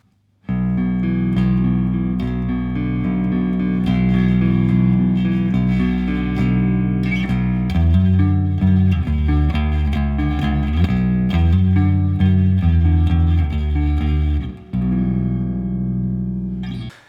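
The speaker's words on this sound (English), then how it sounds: "playing a kind of nice little clean sound" Clean electric guitar chords through a Vox Bruno TB18C1 combo amp ring out with a wash of reverb, steady and fairly loud, played alone without any voices.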